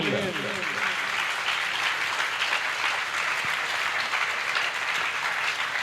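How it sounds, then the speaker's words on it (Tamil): Steady, loud applause fills the hall at a 2024 Mahashivaratri stage event by a fine-arts dance academy, continuous and even throughout, with a voice speaking briefly over the clapping at the start. "பரவாயில்ல, விடாம கைத்தட்டலாம், பிரச்சனையே இல்லை"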